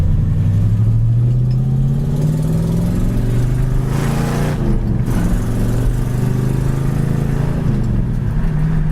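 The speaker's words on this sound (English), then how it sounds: "As far as this little 289, it runs excellent." A 1967 Ford Mustang's 289 V8 runs steadily at close range, a deep continuous engine rumble with a brief swell in pitch partway through, no voices over it.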